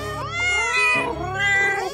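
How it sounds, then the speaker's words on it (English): Hungry kittens meowing in rising and falling high-pitched cries that overlap into a continuous, close, loud chorus of mewing, with no talking. "here comes more kittens! Oops, they're really hungry!"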